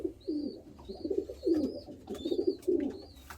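Racing pigeons kept in a loft coo in a close, repeated run of soft, rolling calls, one after another, with a faint high whistle in the background.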